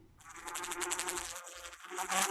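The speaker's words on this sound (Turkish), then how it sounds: "arılar bahçeden polen almak için yarışır dururmuş" Bees buzz in a steady, high drone, continuous, close and fairly loud, rising slightly toward the end, with no voices.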